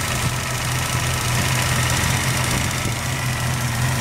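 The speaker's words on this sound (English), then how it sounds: "I hear it working, but maybe that's how it's supposed to be." Air compressor on a dually pickup truck running steadily, a loud, even mechanical hum with a low droning tone and a faint rhythmic knock throughout.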